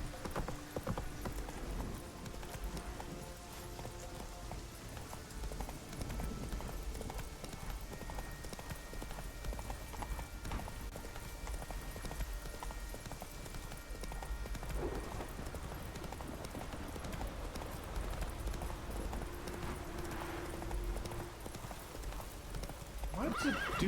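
In The Witcher 3, a horse gallops with a continuous rhythmic clip-clop of hooves and occasional whinnies, steady and moderately close throughout the stretch.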